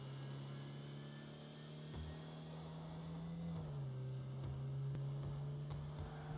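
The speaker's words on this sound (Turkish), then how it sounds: "Oyuna çok iyi araba sesleri yansıtmışlar." A car engine hums in the video game Rocket League. It is a faint, steady mechanical drone whose pitch dips slightly midway and then holds, with occasional soft clicks and no talking.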